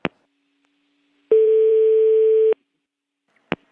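A telephone line tone after a dropped call: one steady, loud, evenly pitched tone lasting about a second, set between sharp clicks before and after in otherwise silent air.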